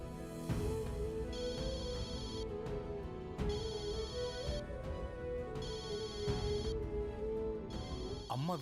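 A telephone rings in repeated electronic bursts, four rings in a steady cycle with short gaps, moderately loud over a sustained musical drone in a television drama scene.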